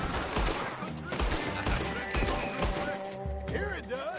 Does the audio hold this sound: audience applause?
no